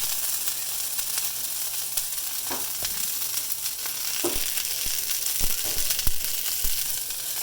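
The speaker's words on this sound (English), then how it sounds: "I'm going to cook broccoli first." Broccoli fries in olive oil in a stir-fry pan with a loud, continuous close sizzle and hiss. Occasional stirring clicks and scrapes of a utensil cut through it.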